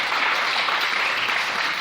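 A church congregation applauds in a steady, dense wash of clapping that holds for the whole stretch, close and fairly loud, with no voices standing out.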